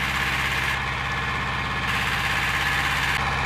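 Tractor engine idling steadily in a potato field at spring planting, a close, even low rumble with rhythmic vibration and no voices.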